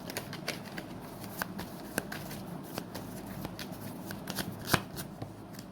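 Tarot cards are shuffled by hand at low volume, a soft papery riffle with repeated light snaps and flicks at irregular intervals, close and quiet.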